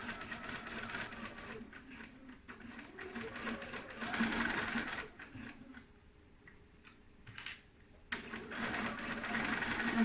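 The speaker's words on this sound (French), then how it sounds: "Donc un point d'arrêt en début de couture comme d'habitude." Sewing machine running in 2/4 setting with a Teflon foot, stitching a backstitch at the start of a seam: steady motor whir with brief pauses and restarts, close and fairly loud, no talk.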